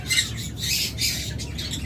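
Violet opaline pet birds squawk in a series of harsh, raspy bursts close by, with no voices.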